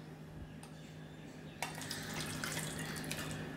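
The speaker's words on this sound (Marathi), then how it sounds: "ह्यात मी 1 कपभर पाणी टाकणार आहे" A cup of water is poured onto freshly cut tomatoes in a pot. After a quiet moment, a soft, steady splashing and trickle starts and continues to the end, fairly faint and close.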